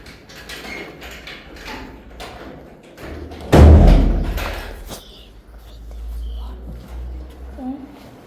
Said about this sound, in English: If you would close that door, I'd appreciate it.